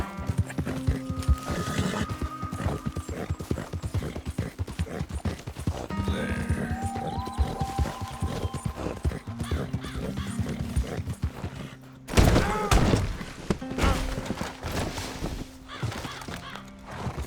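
A horse gallops in Red Dead Redemption 2, its hooves clip-clopping in a fast, steady rhythm with snorts and whinnies, and a louder burst of activity near the end.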